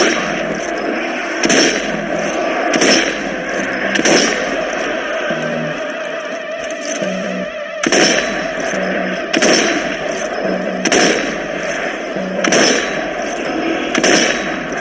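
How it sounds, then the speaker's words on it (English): Repeated booming blasts from Zeppelin-dropped bombs in Zombie Army 4: Dead War, with several sharp broadband impacts spaced across a loud, continuous battle din. "A Zeppelin showed up out of nowhere and dropped a grandissima bomba"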